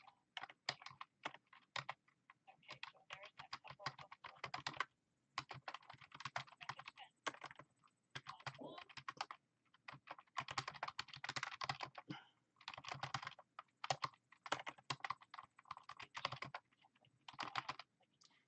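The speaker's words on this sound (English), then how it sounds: "sorry about the keyboard sound" Rapid clattering of computer keyboard keys in bursts of fast typing, separated by brief pauses, recorded close and fairly quiet.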